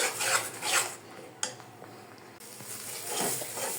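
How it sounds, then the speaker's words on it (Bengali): Green banana peel mash frying in oil, scraped and stirred in a pan with a rasping, rubbing rhythm in irregular bursts, moderately quiet, with a brief sharp knock partway through. "আর এটাকে আমি ততক্ষণই ভাজতে থাকবো যতক্ষণ না তেল উঠে যায় উপরে।"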